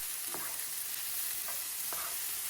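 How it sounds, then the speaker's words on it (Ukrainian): Eggplant pieces fry steadily in hot oil with a constant close sizzle, broken by a few scraping stirs of a utensil in the pan. "Перемішуючи, смажимо 5-6 хвилин."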